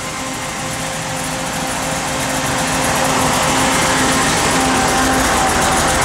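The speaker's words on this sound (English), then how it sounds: "Car's got a real good sound to it." The engine of a 1968 Chevrolet Camaro with dual electric fans runs steadily, a loud continuous idle drone with a faint whine and broad fan-like hiss, swelling slightly over the first few seconds, with no talk.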